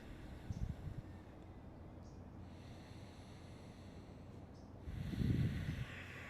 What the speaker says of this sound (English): I'm just going to take 5 breaths here.